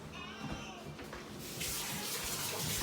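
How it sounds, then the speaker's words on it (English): A kitchen tap runs during handwashing, giving a steady close splash and hiss that grows fuller and brighter partway through, with no talk. "We're gonna wash our hands."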